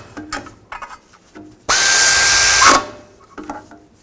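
A power tool tightens transmission cover bolts on a 2000-2006 Chevy Tahoe in one loud, sustained burst of about a second, between quieter clanks and handling noises.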